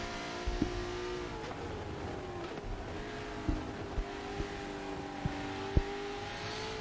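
Hypercar engine note at wet Silverstone, a steady multi-layered drone with short sharp pops and blips, the car drifting on a corner exit while the revs stay sustained throughout.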